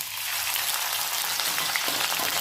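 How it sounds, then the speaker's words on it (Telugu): Small dried fish frying in hot oil, giving a continuous close, bright sizzle with fine crackling throughout and no voices. "నూనె బాగా వేడెక్కిన తర్వాత ఈ మెత్తళ్ళని దానిలో వేసి"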